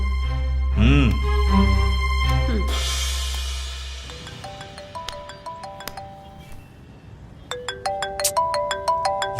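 A phone's electronic ringtone melody repeats over and over with no pickup. It follows a louder, deep, muffled stretch at the start.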